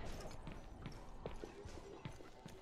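Horse hooves clip-clop in the video game Overwatch, a quick run of light, evenly spaced hoof knocks under steady background game noise, with voices talking over them.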